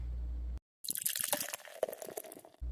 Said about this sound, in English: Let's go ahead and pour this one out and see what it looks like.